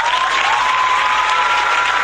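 Dense, continuous applause sound effect played from a soundboard, loud and even with no gaps, like a large crowd clapping.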